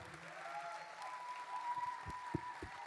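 A seated audience at the FICG 40 master class applauds to send off a singer, a steady wash of clapping heard faint and distant with a soft tone running underneath.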